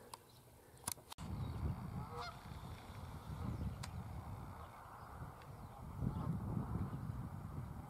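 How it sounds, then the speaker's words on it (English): Geese honking near rocky ground where they nest outdoors, with repeated calls rising over steady wind and rumbling background noise across the whole stretch. "But these geese are nesting up there in those rocks."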